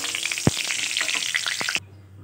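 Whole garam masala and a bay leaf sizzling in hot ghee while prawn dopiyaji is being made: a close, steady crackling fry with small pops that stops abruptly near the end, leaving a low quiet hum.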